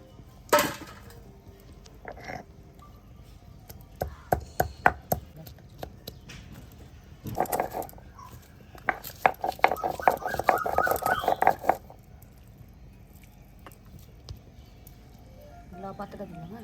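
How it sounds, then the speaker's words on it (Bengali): Fried garlic and dried red chilies being ground by hand on a Bengali grinding stone (shil), with scattered rough knocks and scrapes that come in short irregular bursts between quiet pauses. "কিন্তু আমি আজকে শিলে বেটেই দেখাবো"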